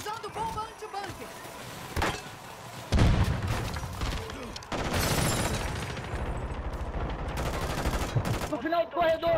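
Gunfire in a Call of Duty match: bursts of shots and booming blasts over game noise, with players talking over the action.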